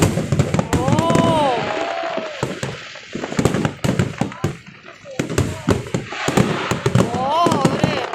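Dense fireworks bursting in quick succession at the Pattaya New Year countdown, loud cracks and booms with crowd voices and excited exclamations throughout, an amplified musical tone swelling twice in the background.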